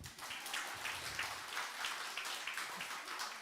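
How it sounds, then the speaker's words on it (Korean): A church congregation at a Korean Sunday worship service claps together in a moderate, evenly spread round of applause, sounding somewhat distant and holding steady throughout. "우리 샬롬부 박수"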